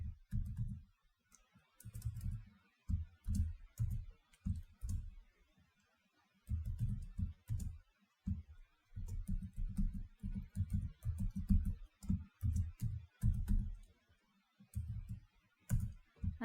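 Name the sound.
typing HTML code on a computer keyboard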